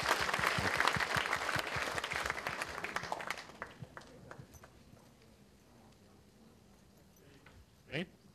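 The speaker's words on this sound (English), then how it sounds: "I want you all to give a good round of applause for him" A conference audience at a developer tech event in Chennai gives a loud round of applause, dense clapping for about three seconds, then thinning to scattered claps and quiet room noise.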